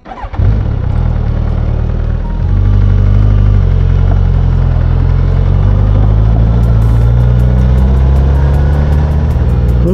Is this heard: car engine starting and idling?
yes